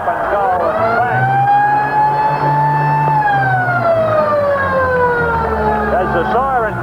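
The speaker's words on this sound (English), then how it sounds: "As the siren goes to end the first half of the 1987 Grand Final, and Kenny Hayward has been able to pop one" A long, loud sustained siren ending the first half of the 1987 Grand Final wails over a stadium crowd, its tone holding then slowly falling before fading out.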